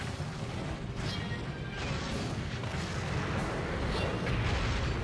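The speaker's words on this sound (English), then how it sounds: "there's a much better view of her cluster bomb" A female dragon's cluster bomb attack in Monster Hunter Generations unleashes a continuous, dense roar of crashing explosions, loud and close, rolling without pause for several seconds.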